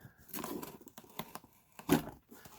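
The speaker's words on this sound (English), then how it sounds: "See if we can cut this box open." A cardboard box is sliced open with a blade, giving close, irregular scraping and crinkling rips, with a louder tear near the middle.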